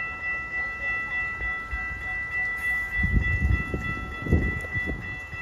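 Amtrak Hiawatha train led by two SC44 Charger locomotives with a P42DC on the back arrives at Glenview, a steady engine drone with a rising surge of rumble and wheel noise in the later seconds, no voices.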